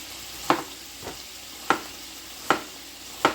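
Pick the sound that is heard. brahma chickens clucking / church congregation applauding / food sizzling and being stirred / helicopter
food sizzling and being stirred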